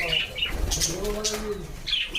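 Cockatiels and budgerigars in an aviary flap their wings in short close bursts, mixed with soft chirps and a low cooing call.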